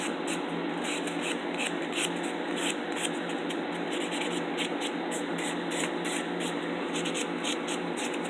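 Fine file rubbing over acrylic nails during a fill, a steady close scratching hiss with quick repeated strokes running throughout at even loudness.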